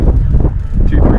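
Steady wind buffets a microphone out on an open lake during a fishing trip, a continuous low rumbling roar with no breaks that fills the short moment.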